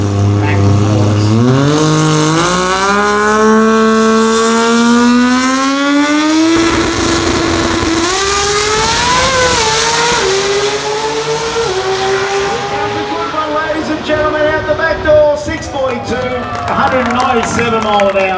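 A Pro Mod drag car, the RX-9, roars down the strip at a Garrett Brisbane drag racing meet, its engine climbing in pitch through each gear shift and fading into the distance, with a loud announcer talking over it.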